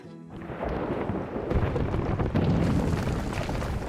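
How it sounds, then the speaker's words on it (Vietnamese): Mine blast in the mountains in the video game Life Is Strange: True Colors: a deep, rumbling boom that swells and rolls on steadily like distant thunder, loud and sustained with no talk. "bất ngờ có tiếng mìn nổ trên núi"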